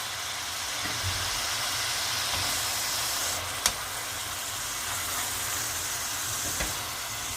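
Soaked dried black-eyed peas go into a simmering tomato sauce for a Turkish bean stew. A constant low hiss runs throughout, broken by a couple of sharp clicks near the pan.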